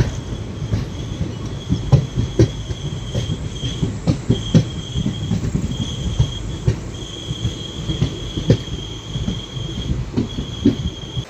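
Onboard the Mayiladuthurai–Mannargudi express train as it runs: a loud, steady rumble of rail travel with rhythmic wheel clatter over the joints and a thin, sustained squeal from the wheels.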